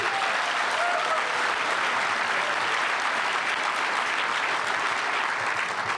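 An audience applauds at a memorial lecture, dense sustained clapping from a large crowd, loud and even throughout with no break.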